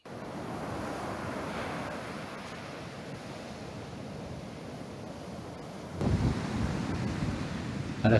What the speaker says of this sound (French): Il faut dire que ça souffle pas mal.